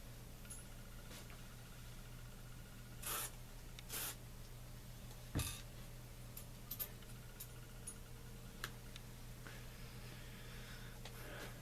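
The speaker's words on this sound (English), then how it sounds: "Spray at an angle so that way you don't spray it in the actual casing itself." Lubricant spray is applied to rifle cartridge cases on a reloading bench as a few short, sharp hissing bursts, with faint ticks and handling noises between them over a quiet steady hum.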